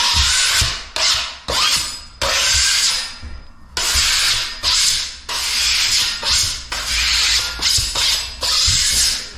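A blade scrapes back dried joint compound on a plasterboard joint in a series of close, rasping strokes of varying length, separated by short pauses, with no voices.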